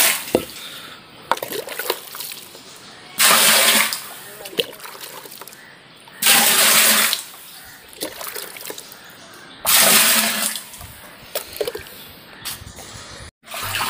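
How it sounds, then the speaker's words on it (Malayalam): Water poured into a household water tank during cleaning, arriving in three loud rushing bursts of a few seconds each, separated by quieter dripping, trickling and handling noises. "ഇനി നമ്മൾ ടാങ്കിൽ ഒഴിച്ചിട്ട് നമുക്ക് കുറച്ച് ഭാഗം കൂടെ ഒന്ന് കഴുകി എടുക്കാം"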